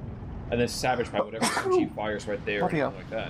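A single sneeze bursts out amid casual talk from someone commentating a Steel Division 2 strategy match, with the voices continuing around it.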